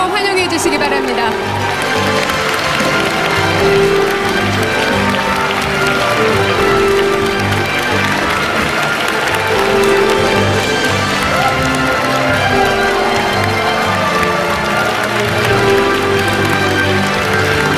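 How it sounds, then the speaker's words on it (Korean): A crowd warmly applauding President Moon Jae-in, continuous loud clapping and cheering that holds steady across the whole stretch, with voices speaking through it. "더욱 뜨거운 박수로 환영해 주시기 바랍니다."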